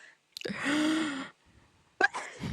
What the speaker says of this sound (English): I'm going to start sneezing again.